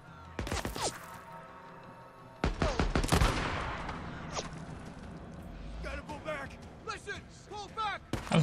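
Shotgun blasts in the video game Days Gone, a few sharp broadband bursts with a heavier cluster near the middle, mixed with game noise and bits of voice.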